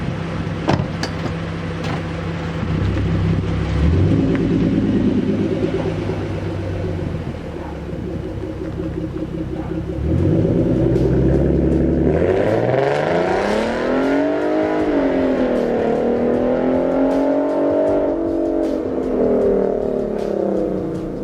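A Mustang fitted with 3.73 gears launches at full throttle with traction control off, its engine revving hard, dropping briefly on a shift, then climbing again in a loud, sustained pull that stays strong to the end, heard from outside.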